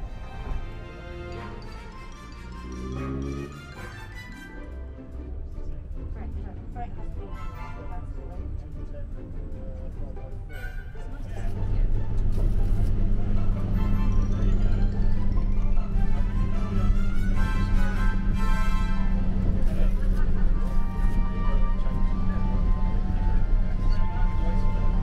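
An old bus engine, on a preserved heritage bus, runs with a low, throbbing rumble and rattling mechanical noise, growing louder and heavier partway through.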